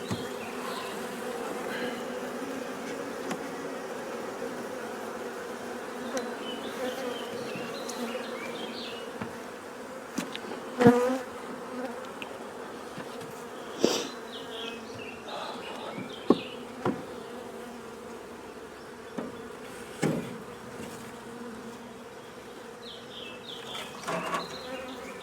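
Honeybees hum in a steady, dense buzz throughout, with occasional sharper knocks and bumps, likely dead bees falling out, rising above the drone.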